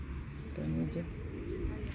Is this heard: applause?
no